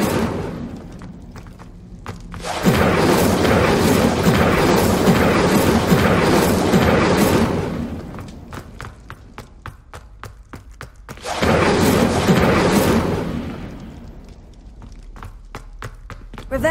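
The Incendio fire spell is cast in Hogwarts Legacy, bursting in two loud, roaring blasts that each last a few seconds, separated by quieter stretches of footsteps.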